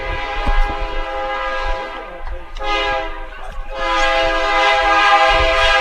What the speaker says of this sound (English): Another train going by.